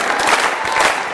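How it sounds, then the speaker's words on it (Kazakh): Wedding guests clapping together at a lively celebration, a brief dense patter of applause filling the room at moderate distance. "Қатты қол шапалақ тұрамыз."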